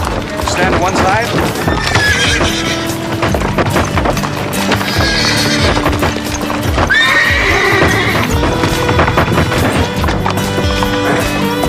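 Horse hooves clip-clop steadily and a horse neighs loudly over a dense, busy mix with music and voices, during a street protest against horse slaughter.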